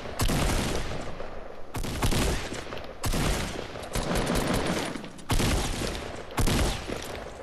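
Loud, dense bursts of gunfire from a Fortnite Battle Royale match, with rapid automatic volleys and single heavy shots repeating in clusters throughout, close and overlapping.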